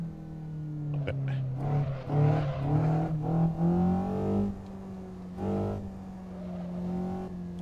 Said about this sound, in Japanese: やっぱこの NA のさ、エンジン音がいいっすよね。